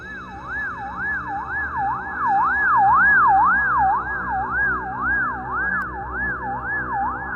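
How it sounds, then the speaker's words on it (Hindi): An ambulance siren wails continuously in a fast, regular up-and-down cycle, loud and fairly close, with faint road noise underneath. "फिर तुरंत वो एम्बुलेंस वाला बुल्ली को उठा के एम्बुलेंस में डाल लेता है और हॉस्पिटल की तरफ जाने लगता है।"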